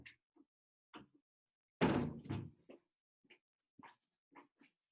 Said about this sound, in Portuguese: meu cachorro tá pedindo para abrir a porta